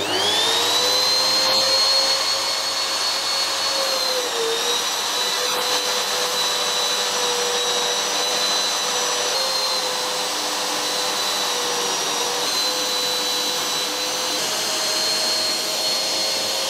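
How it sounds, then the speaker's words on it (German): A wood router cuts into oak for an LED lamp, a loud steady high-pitched whine that holds throughout with slight dips in pitch as the bit bites, close and continuous with no talk. "3 bis 5 mm reinfahren und dann Stück für Stück den Fräser rausfahren nachher"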